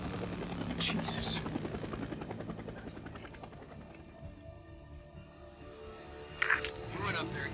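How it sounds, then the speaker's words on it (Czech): Helicopter in the video game Days Gone, a steady rotor and engine drone running throughout, moderately loud and continuous with a brief sharper burst near the end. "Tak jo, jdeme za vrtulníkem."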